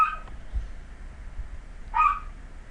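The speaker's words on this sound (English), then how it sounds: "Excuse my dog in the background." A dog gives a couple of short barks or yips in the background, one near the start and a louder one about two seconds in.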